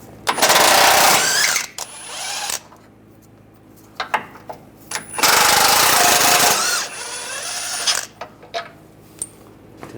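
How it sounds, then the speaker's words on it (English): An impact wrench with an 18mm socket removes front sway bar bushing bolts on a 2011-2018 Ram 1500, firing two long, loud hammering bursts of about two seconds each, with some light metallic clinks in between. "We're going to remove these bolts,"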